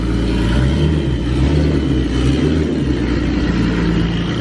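Loud, close engine of the BatRod custom car idling roughly and revving, a steady low rumble with slight swells, running on its own without voices.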